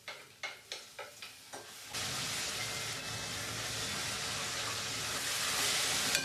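Tomatoes dropped into a hot pan for fish curry: a few soft taps first, then a sudden loud, steady sizzle and hiss that keeps building close up without talk.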